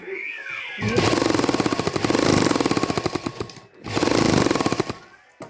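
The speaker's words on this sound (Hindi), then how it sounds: "ऐसे पलटने के बाद इसको भी हम ऐसे सिलाई लगा लेंगे।" A sewing machine stitches shirt fabric in rapid, rattling bursts, starting after a short pause, running loud and close, stopping briefly, then running again before slowing to a halt.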